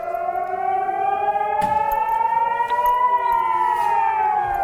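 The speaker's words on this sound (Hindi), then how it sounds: "जहां पर सायरन की आवाज लगातार लोगों को डराती हुई नजर आई" A civil defense siren wails steadily, its tone slowly rising over several seconds, loud and continuous with faint thumps in the background.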